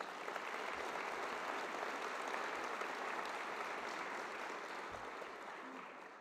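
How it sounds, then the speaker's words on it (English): Large convocation audience at Cal Poly gives a round of applause, a dense, even wash of many hands clapping at a distance, steady for several seconds before tapering slightly. "Please give them a round of applause."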